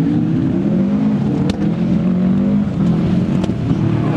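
A vintage Ford Escort rally car slides sideways through a live rally stage, its engine a loud, steady, rasping drone that holds for several seconds with slight rises and dips.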